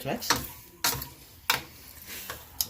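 Pork adobo is stirred in a pan just after vinegar goes in, with four sharp scraping clacks of a utensil spaced about every 0.6 seconds over a faint sizzle.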